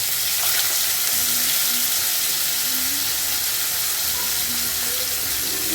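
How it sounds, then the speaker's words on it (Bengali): Pieces of katla fish fry in hot oil for a fish curry, giving a steady, dense sizzle that holds without a break, with faint clinks and water sounds underneath and no talking. "তেল গরম হয়ে গেছে, এবার আমি মাছগুলো"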